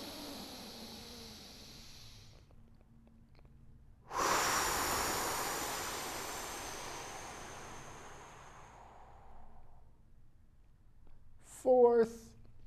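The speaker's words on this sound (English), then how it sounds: "Third inhale." Slow, deep breathing comes close to the microphone: one long, airy breath fades over several seconds, and a short voiced sound follows at the end, with a faint steady background hum.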